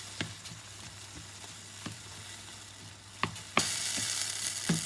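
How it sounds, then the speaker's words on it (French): Onions frying in a pan, a quiet continuous sizzle close by, broken by a few sharp clicks and scrapes of stirring, then a louder burst of sizzling toward the end. "Le sel permet de faire suer les oignons."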